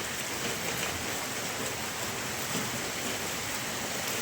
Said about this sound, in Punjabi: ਬਹੁਤ ਮੀਂਹ ਪੈ ਰਿਹਾ ਹੈ